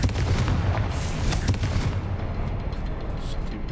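The Confringo blasting spell in Hogwarts Legacy sets off a dense, rumbling barrage of booms and crackling impacts, loud and continuous at first and then thinning out.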